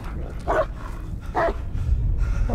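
A dog in the Blair Witch video game gives two short barks spaced about a second apart, mid-distance over a low ambient rumble.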